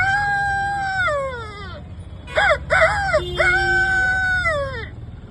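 A man at the Ashadhi Wari pilgrimage imitates a dawn rooster crowing, giving a few long, rising and falling vocal calls, loud and close over faint background crowd noise.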